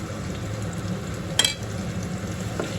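Brinjal (eggplant) frying in a pan, a steady close sizzle with faint stirring and a brief sharp clatter midway; no talk.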